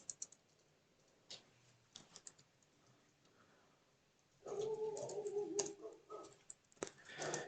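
Keys click sparsely on a computer keyboard during software setup, with a few separate taps and then a denser burst of faint typing near a quiet, steady background tone.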